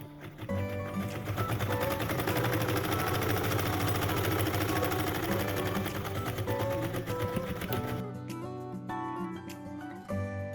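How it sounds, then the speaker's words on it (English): A sewing machine top stitches along a recessed zipper panel, running steadily and loudly in a fast continuous whirring rhythm for about eight seconds before slowing and stopping, with no talk. "I'm going to top stitch all the way to this end."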